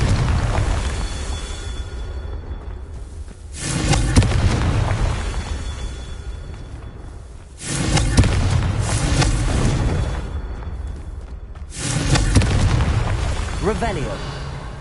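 Three loud, booming fiery blasts from the Confringo explosion spell in Hogwarts Legacy, each with a sharp onset and a long rumbling, crackling decay, spaced a few seconds apart in a game battle.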